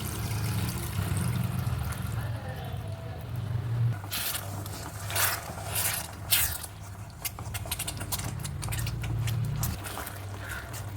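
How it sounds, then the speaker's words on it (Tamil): Tamarind water is poured into a pan of garlic and pepper curry, giving a liquid pour followed by bubbling, sizzling and stirring scrapes at close range. "கரைச்சி வச்சுருக்க புளி தண்ணி ஊற்றிக்கலாம்."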